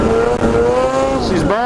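A snowmobile engine bogging after a snowstorm, its harmonic whine holding steady then sagging and dropping in pitch before picking back up, loud and close, with a voice briefly over it.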